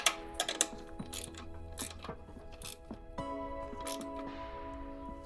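Tightening the bolts of a horn assembly on a crash-damaged BMW S1000RR sportbike, heard as close ratcheting clicks and small metallic taps, short bursts with a low hum running underneath.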